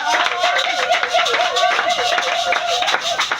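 A church congregation claps steadily and loudly in rhythm while voices call out and sing acclaim together, the dense clapping running continuously under the crowd's shouts of praise.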